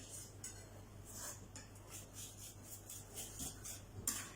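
Garlic crushed with salt against a chopping board, faint scraping and pressing rubs with a few light clinks, close and quiet.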